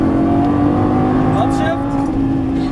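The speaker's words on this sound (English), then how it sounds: "Accelerate through the corner, and full throttle down the straightaway" A Lamborghini Gallardo at full throttle on a track, its engine droning loud and steady with a rising tone. Someone talks over the engine.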